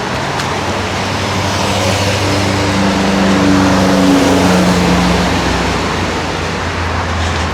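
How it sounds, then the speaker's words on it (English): Busy road traffic passes along a steep stretch of the Two Oceans half marathon route, as a loud continuous roar of vehicles with engine hum swelling and fading. "Obviously very, very busy with traffic today."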